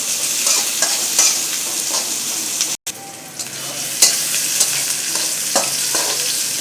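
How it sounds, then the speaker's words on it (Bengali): Onions with whole spices and bay leaves sizzle steadily in a pan, with occasional stirring clatter, as the onions fry for a beef and potato curry. No one speaks. "পেঁয়াজগুলো একটু ভেজে নিব।"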